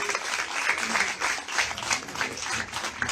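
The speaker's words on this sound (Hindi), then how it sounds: "और तालियों में कोई कमी नहीं होनी चाहिए" Moderate applause from the audience at an award ceremony in Jaipur as a winner accepts a prize on stage, with uneven clapping at mid distance.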